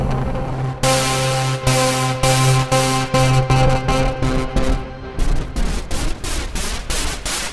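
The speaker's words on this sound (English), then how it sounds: "You can mix in white noise and have adjustable colour." An Arturia PolyBrute synthesizer with white noise mixed in: a loud, steady pitched drone runs under repeated sharp bursts of broad hiss that come in an uneven rhythm.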